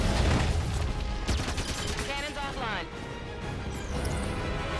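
Weapon fire in the Halo 5 video game, a dense burst of shots with booming impacts and mechanical clatter, mixed loud under game speech and continuing throughout.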